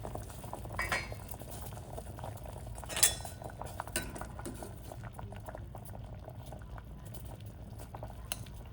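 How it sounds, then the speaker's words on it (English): Steady bubbling of water boiling in a pot of potatoes and other vegetables, with an occasional soft clink of a metal fork against the pot. "So now the vegetables are boiling."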